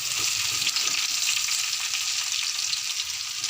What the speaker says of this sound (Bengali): হালকা হালকা ফ্রাই করে নিতে হবে